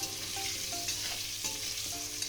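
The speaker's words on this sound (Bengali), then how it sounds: "এবার আমি আলুগুলোকে লাল করে ভেজে তুলে নেব।" Steady crackling sizzle of potatoes frying in hot oil, with a few clinks and scrapes of stirring on top; no voices.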